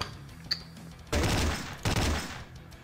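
Bursts of gunfire from the Slendytubbies video game: a brief pop followed by two dense, loud volleys of rapid shots, the second shorter, with quiet gaps between them.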